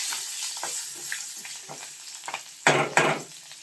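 Spice tempering sizzles in a small pan for majjige huli, a crackling hiss with scattered stirring taps that quiets after the gas goes off, then two sharp louder bursts of sizzling near the end.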